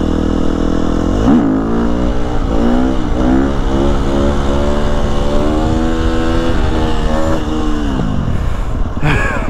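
A Sur Ron or KTM SX 250 dirt bike revs hard during a wheelie: a close, loud engine whose pitch climbs and wavers repeatedly, holding high before easing off near the end.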